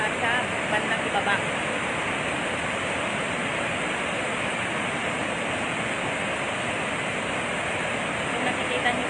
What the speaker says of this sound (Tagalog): Ngayon, mas malakas na naman yung pagpapakawala ng tubig.